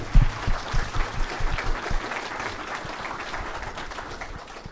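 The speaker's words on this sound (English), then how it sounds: "Round of applause." Audience applause at a debate on Christianity and secular humanism, a burst of close, rhythmic clapping that settles into a steady wash of hands before gradually thinning.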